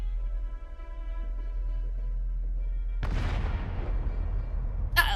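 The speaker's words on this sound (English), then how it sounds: "An explosion!" Explosion in the Arknights video game: a sudden loud boom bursts in partway through, rumbling off over a low drone and ending with a sharp crack.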